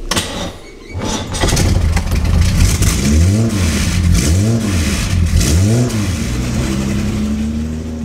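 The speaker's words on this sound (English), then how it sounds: "today I'm driving a 1957 Jaguar" A 1957 Jaguar XKSS, a D-Type derived sports car, revving while driving, its engine note rising and falling in three repeated throttle surges before settling into a steady pull, loud and close with no talk.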